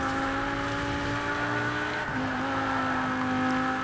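A high-performance car engine in the Forza Horizon racing game holds a steady, loud drone with one pitch shift midway, no voices present.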